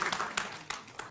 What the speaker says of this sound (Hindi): भाई ताली बजा दीजिए, दोनों ने अपनी पूरी ताकत लगाई।